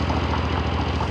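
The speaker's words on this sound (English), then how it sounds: "Let's go ahead and fire this up." Moto Morini Vettore 450 motorcycle with a parallel twin engine running just after startup, a dense, loud, steady mechanical rumble close to the microphone, no talk.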